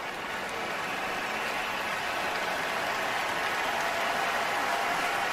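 A sellout baseball crowd at a Yankees versus Blue Jays game gives pitcher Dylan Cease an ovation, a steady, sustained roar of applause and cheering that swells slightly as it goes, with no pause.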